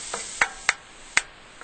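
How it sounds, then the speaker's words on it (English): Flour cooking in a pan for corn pudding, stirred with a utensil that gives four sharp, spaced taps and scrapes over a faint steady sizzle, close by. "we're cooking that flour until it loses its floury taste"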